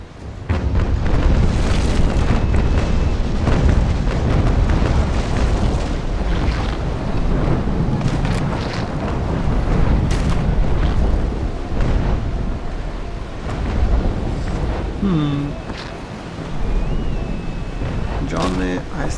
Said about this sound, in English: somebody's firing on me and I'm wondering who it is